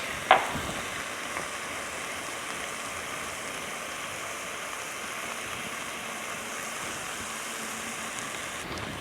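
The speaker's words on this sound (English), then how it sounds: "Now we stir and cook this over a medium heat for like 3 to 4 minutes" Red onion, garlic and crushed red pepper flakes cooking in a pan over medium heat give a soft, steady sizzle that runs evenly throughout after a brief clink at the start.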